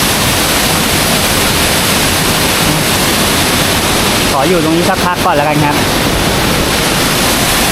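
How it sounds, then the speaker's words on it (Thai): A forest waterfall rushes in a loud, steady, close roar throughout, with someone speaking briefly over it midway. "เจ้าน้ำตกนี้"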